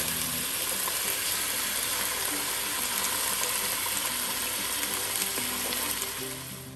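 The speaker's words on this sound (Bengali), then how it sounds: "জাস্ট একটু লাইট ব্রাউন করে চিকেনগুলো ভেজে নেব" Chicken pieces fry to a light brown in a pan of hot oil, giving a dense, even sizzle that runs steadily for several seconds and fades slightly at the end.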